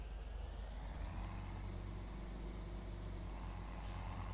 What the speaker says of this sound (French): Là, je vais prendre mon petit tracteur